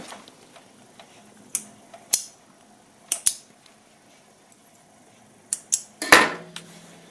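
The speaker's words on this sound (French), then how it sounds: "je coupe bien mes fils" Small scissors snipping sewing threads while hemming a mitred corner, producing sparse, sharp clicks that come singly and in quick pairs over a quiet background.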